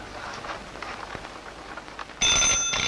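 A telephone suddenly begins ringing with a loud, steady electronic trill in an indoor scene from a Marathi comedy film. It cuts in abruptly over faint background noise and continues to the end.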